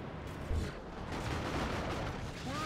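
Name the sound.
Carnifex exploding in Dawn of War 2 video game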